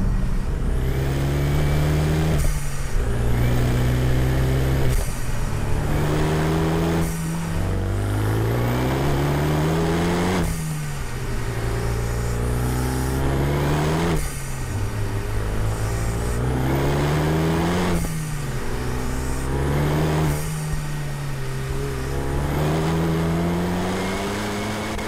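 A Renaultsport Megane Cup 250, stage one tuned to about 310 horsepower, accelerates hard through the gears, its engine note climbing and dropping with each shift in a steady cycle, loud and close from inside the cabin.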